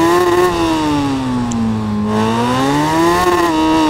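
A 2024 Suzuki Hayabusa revs hard in first gear while pulling a wheelie on a highway. Its loud, steady engine note dips, then climbs again over four seconds, with no voices.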